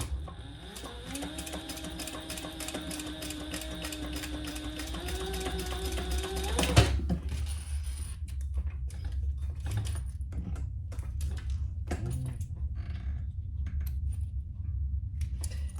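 Sewing machine stitching a quarter-inch seam along a zipper, a steady mechanical whir with fast needle rhythm running for about seven seconds, then stopping abruptly into quiet clicks and handling noises.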